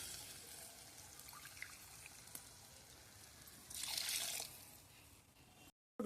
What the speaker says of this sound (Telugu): 2 కప్పులు వాటర్ పోసేయండి